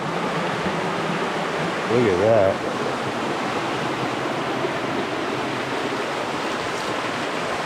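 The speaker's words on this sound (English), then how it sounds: "Water's getting louder." Steady rushing water beside a hiking trail fills the scene with a constant loud roar, and a voice briefly speaks over it.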